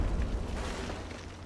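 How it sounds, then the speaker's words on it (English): An explosion in the video game Fallout 3 sends a deep, sustained rumbling boom through the whole moment, loudest at the start and slowly easing off, with no talk over it. "Don't know why that exploded"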